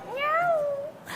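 A person imitates a cat's meow: one clear, rising then falling mew-like cry, close and fairly loud, with no talking around it.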